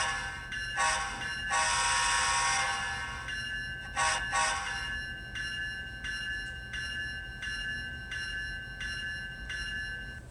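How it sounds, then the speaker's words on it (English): Model locomotive horn on a ScaleTrains Union Pacific Tier 4 GEVo (C45AH) HO model sounding in several blasts, one long, with the electronic bell ringing steadily underneath and fading on after the horn stops, close and alone over a low hum. "F2 is the horn."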